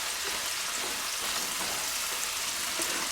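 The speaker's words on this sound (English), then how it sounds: "we'll just keep giving this a little bit of a stir as it browns, as it sautés" Mushrooms sautéing in a pan, an even, dense sizzle holding steady at close range with no talking.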